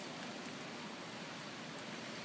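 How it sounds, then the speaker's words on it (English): Steady rain falls all around a spot sheltered beneath a tree, a dense even hiss of drops with no speech, constant and enveloping. "So I'm here on this rainy day seeking refuge under a tree"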